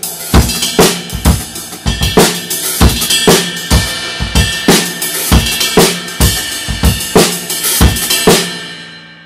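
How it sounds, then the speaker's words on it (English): Drum groove with the ride cymbal played on its bell, hi-hat and snare hits, sounding as crisp, evenly spaced close strikes, loud and alone, ringing out at the end. "The bell of the cymbal."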